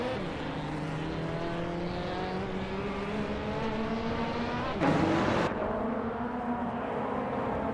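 GT4 race cars in a video game at Alton Park Island roar continuously with rising engine pitch through gear changes, a brief harsher burst midway as a car passes close, with no talk.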